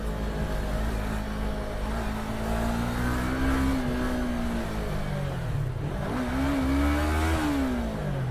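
A Yamaha R25 motorcycle threads through traffic with a continuous engine drone that rises and falls as the rider works the throttle, loud and close throughout with wind noise.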